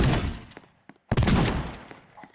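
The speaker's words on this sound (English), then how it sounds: "Let's actually shoot it." Video-game gunfire aimed at a western town: loud bursts of rapid shots that break off briefly and then resume in a dense volley.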